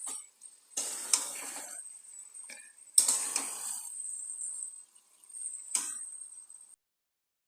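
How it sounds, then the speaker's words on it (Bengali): Meat mixed with spices is stirred in a pan in a few separate bursts of scraping and rattling. A thin, steady whine runs behind the strokes, with quiet gaps between them. "মাংসগুলোকে দিয়ে সুন্দর করে নাড়াচাড়া করব"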